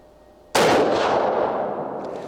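A single sharp rifle shot from a .270 Winchester Model 70 firing Czech-made ammunition cracks loudly after a quiet moment, its report echoing and slowly fading outdoors.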